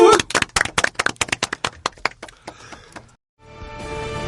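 A small group claps for a guest on a talk show: a burst of brisk, close hand claps fades over about three seconds, then a brief silence before music comes in.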